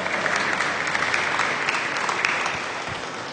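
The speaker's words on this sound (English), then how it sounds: "just give a big round of applause for the jerseys" An audience claps continuously at a dairy cattle show honoring Jersey cows, from heifers to production cows. The applause is a dense, steady patter that fades slightly toward the end.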